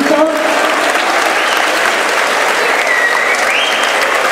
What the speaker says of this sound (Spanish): pido un aplauso fuerte